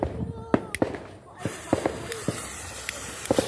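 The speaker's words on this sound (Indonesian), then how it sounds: "Dan nanti lanjut kita nyalakan yang petasan Patriot Missile" Patriot Missile firecrackers being lit and going off outdoors, with a series of sharp pops and crackles at uneven intervals, some quick doubled bursts, and a hiss between them.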